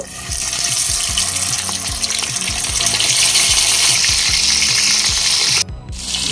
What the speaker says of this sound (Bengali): সরিষার তেল গরম হয়ে এলে মাছ দিয়ে দেব।